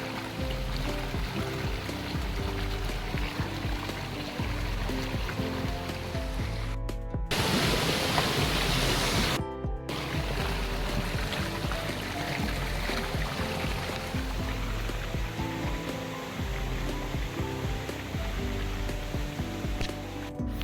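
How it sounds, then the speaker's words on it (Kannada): Clean stream water pours steadily out of a tunnel in rainy weather, a continuous loud rushing wash with no voices. "ಇದು ಸುರಂಗದಿಂದ ಬರುವ ಜರಿ ನೀರು"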